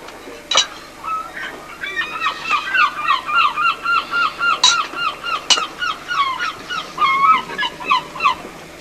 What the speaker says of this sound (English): You look a poorly little dicky bird,